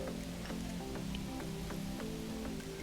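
Soft bubbling with faint, regular pops over a low steady rumble as Hefeweizen wort comes to a rolling boil in a brew kettle, heard quietly and without talk.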